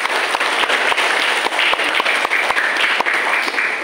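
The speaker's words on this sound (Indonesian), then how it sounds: "Tepuk tangan untuk PT An-Namirah." Loud, close audience applause at a welcoming speech, a steady roar of many hands clapping with distinct sharp claps standing out as the ovation continues.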